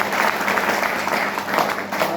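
An audience at a yoga and meditation event claps to welcome a guest, a steady, dense round of applause from a crowd filling the whole moment.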